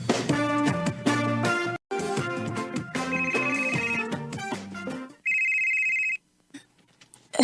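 A cellphone rings with a melodic, tonal ringtone that repeats in steady phrases and ends in a sustained high electronic tone before cutting off, loud and close with no talking over it.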